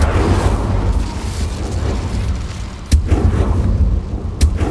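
Incendio fire spell in Hogwarts Legacy bursting with a loud, rumbling blast, followed by crackling flames and two sharp pops.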